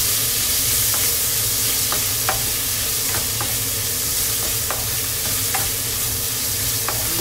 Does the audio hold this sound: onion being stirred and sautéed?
yes